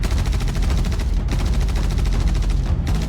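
Rapid automatic weapon fire with recoil in the video game Star Citizen, a loud, dense, continuous stream of shots close up, briefly pausing twice before resuming.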